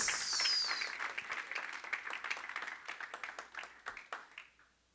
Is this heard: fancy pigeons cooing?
no